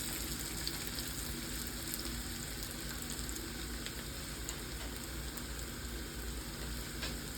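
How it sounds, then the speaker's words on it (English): Onions with chopped garlic sautéing in a pan for Southern smothered pork chops: a constant, even sizzle with occasional small crackles, moderately loud with no voices. "I'm gonna add this little garlic here to it that I chopped up and continue to saute it for just a few minutes"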